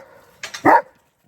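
On a farm, a dog lets out a short, loud bark preceded by a couple of quicker yips, close by and alone, then silence.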